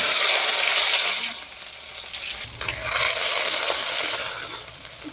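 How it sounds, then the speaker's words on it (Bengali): Chopped onion and green chilli fry in hot oil with a loud, dense sizzle and stirring, dipping briefly midway before surging back and then easing toward the end. "পেঁয়াজ কাঁচামরিচটা বেশি ভাজবো না অল্পই ভাজবো"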